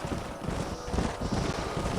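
Horse hooves from the Red Dead Redemption video game clop in a steady, continuous rhythm over a thick bed of in-game ambience and background noise.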